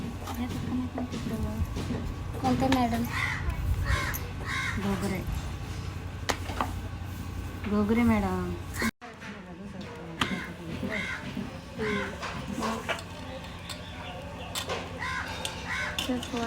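Crows caw repeatedly at a distance, harsh calls scattered over steady outdoor noise, while people talk nearby throughout.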